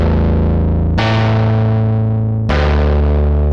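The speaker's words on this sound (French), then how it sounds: "Un effet dit cabinet, c'est un simulateur d'ampli." A synthesizer played through a cabinet amp simulator effect gives a loud, distorted, guitar-like tone, holding three sustained notes in a row with no talking.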